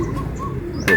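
Racing pigeons coo close by in a brief, soft, low murmur, ending in a sudden sharper burst of sound.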